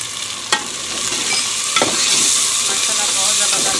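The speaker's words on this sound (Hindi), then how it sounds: "थोड़ा सा भून लेंगे, ये टमाटर का पेस्ट डाल देंगे।" Garlic and tomato paste masala for an arvi curry sizzles steadily in a hot pan, a dense frying hiss broken by a couple of sharp spoon scrapes as it is stirred, close and loud.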